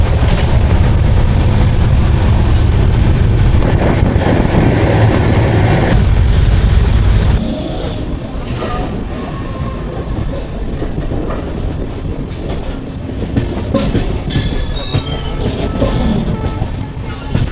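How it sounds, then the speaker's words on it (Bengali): An Amrit Bharat Express passenger train rolls into Malda Town station, a loud rumbling roar of wheels and carriages that drops after several seconds to a quieter clatter with occasional metallic squeals. "এই মুহূর্তে মালদা টাউনে গাড়ি ঢুকছে"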